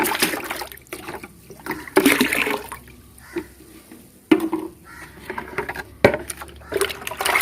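Homemade liquid fertilizer, strained after two days of soaking in water, is poured into a bucket of water; an uneven trickle and splash rises and falls in bursts close by, with no talking.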